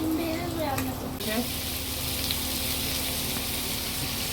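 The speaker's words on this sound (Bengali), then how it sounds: "এখন বন্ধুরা আমি ডিম ভেজে দিচ্ছি আম্মু" Eggs frying in a home kitchen pan give a steady, close sizzle throughout, with a brief clatter near the start and no voices.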